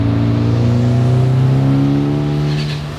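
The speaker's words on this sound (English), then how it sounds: "it gets a really good turbo flutter that's so addicting" A turbocharged, 425 hp, Mustang-engine-swapped Ford Escape hums steadily with layered harmonic tones that shift in pitch, then fades slightly with a brief airy turbo blow-off flutter near the end.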